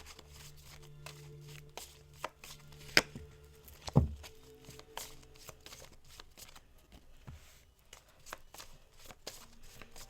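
Tarot cards are shuffled and drawn in a quiet room: brisk riffling and snapping card sounds, a couple of sharper slaps, then softer sliding and flicking as cards are laid out.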